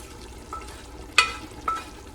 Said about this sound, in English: And while we're cooking this meat,